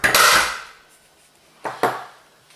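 A hammer strikes a centre punch to mark hole positions for later drilling: one loud, ringing blow, a pause, then two quick sharp taps close together, all clear with no talk.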